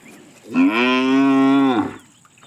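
A single long, loud moo from a nearby cow, deep and sustained for over a second, with nothing else but faint background noise.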